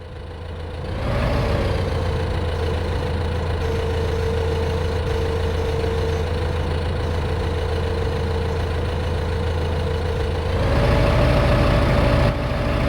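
Powerful tractor engine in the video game Farming Simulator 15, idling and then revving up, a steady loud drone throughout with a rise in pitch and level near the end.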